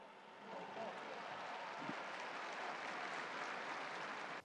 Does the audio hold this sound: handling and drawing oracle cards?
no